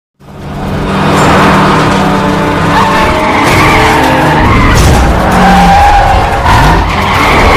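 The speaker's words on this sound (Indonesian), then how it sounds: "Dengan skill mengemudinya, Jack dengan mudah dapat memenangkan balapan." A race car skids hard in a film race scene, with a long, loud tire squeal layered over engine roar and a couple of pitch-shifting whines, continuous and close without any speech.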